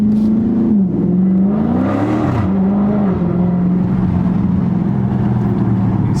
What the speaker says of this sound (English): you can really play with the sounds of the exhaust